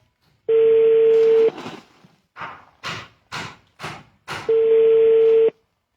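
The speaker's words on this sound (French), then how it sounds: "Bon, on appelle maintenant." Telephone call being placed: a steady dial tone, then a string of six short DTMF keypad tones in rhythm, ending with another steady tone, loud and clear with no talking.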